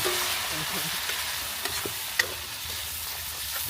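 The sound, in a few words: pork liver sautéing in a pan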